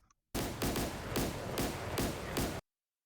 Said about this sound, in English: Sounds like a Caracat firing its main gun at him.